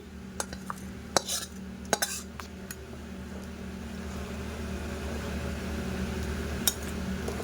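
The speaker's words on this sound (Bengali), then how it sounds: "এবার আমি গরম জলের মধ্যে দিয়ে দিচ্ছি" Fried mutton for a thin curry is moved into a pot of hot water, with a few clinks of metal utensils early on, then a steady, faint hiss of the simmering pot.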